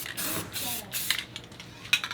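Clear coat spray paint hisses from an aerosol can onto a wine bottle being made into a decor vase, in several close, loud bursts with brief pauses between them.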